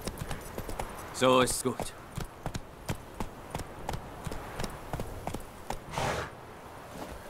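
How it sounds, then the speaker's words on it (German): Horse hooves clip-clop at a steady pace while riding in The Witcher 3, soft and fairly quiet, under occasional German speech and game sounds. "So, jetzt müssen wir hier den Weg lang reiten."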